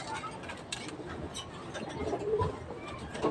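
Low, soft pigeon cooing repeats amid a busy background rustle, fairly close, with a faint murmur in the surroundings.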